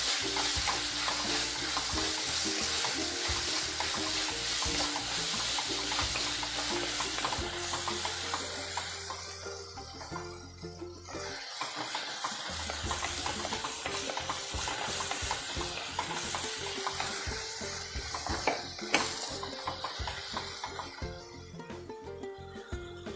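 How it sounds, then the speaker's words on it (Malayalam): Chopped tomato sautéing with ginger, green chili and curry leaves for a Kerala cashew nut curry, a loud steady sizzle with frequent stirring scrapes and clinks, briefly easing midway before resuming. "ഇനി ഇതിലേക്ക് നമുക്ക് ഒരു ചെറിയ തക്കാളി കട്ട് ചെയ്ത് വെച്ച ചെറിയ തക്കാളി ഇട്ട് കൊടുക്കുന്നുണ്ട് ഇതും നന്നായിട്ടൊന്ന് വഴന്ന് വരട്ടെ"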